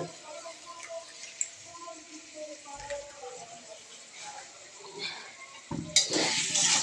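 Eggs cracked into noodles in a frying pan are stirred around, with scraping and clinking against the pan over a light sizzle, then a louder burst of frying near the end, while a voice talks throughout.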